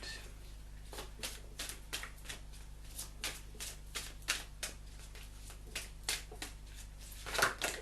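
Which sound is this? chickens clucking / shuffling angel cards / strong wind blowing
shuffling angel cards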